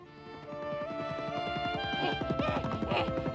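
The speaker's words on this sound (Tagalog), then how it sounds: "Ilabas nyo mga kabayo!" Horses gallop in a dubbed cartoon, hooves clip-clopping in a fast, even rhythm that builds and grows denser toward the end, close and loud with no talk.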